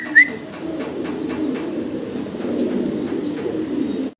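Giant homer pigeons cooing in a fancy pigeon loft, a steady low throaty murmur of several birds close by, with a brief higher squeak near the start and no talk.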